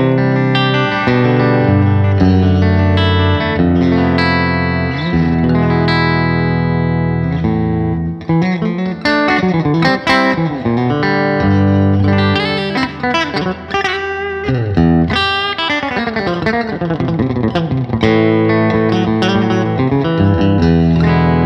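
Loud Fender Custom Shop 1957 Telecaster Relic electric guitar playing chords and lead phrases through a Fender Super Reverb amp, bright and slightly driven with some reverb, continuous with no talking.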